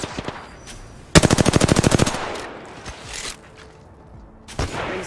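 Gunfire in a video game match: a fast automatic burst of about a dozen close, crisp shots, then quieter distant pops, and a second burst starting near the end.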